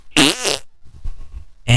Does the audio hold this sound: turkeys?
no